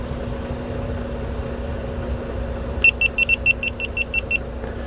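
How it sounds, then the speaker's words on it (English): A GoPro camera sounds a rapid run of about a dozen high, electronic beeps, faint over a steady low engine hum, evenly spaced in quick succession. "Something's beeping at me."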